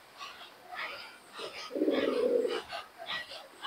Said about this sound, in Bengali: দেখুন এই এক জোড়া কবুতর আছে